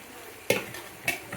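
Basmati rice is turned into a pot of spicy prawn biryani in two quick, close scraping strokes of a spoon against the pot, each followed by a soft shuffle, with no talk.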